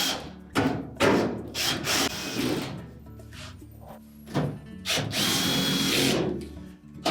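A power drill drives screws into a Whirlpool dryer during a shroud seal replacement, whirring loudly in several short bursts that rise and cut off, with faint knocks from the dryer's panels between runs.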